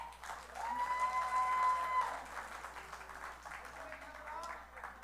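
A crowd at a Deepavali-Rajyotsava cultural event in Pittsburgh gives a swell of applause that rises and then thins out, heard under a speaking voice, with a thin feedback whistle in the middle.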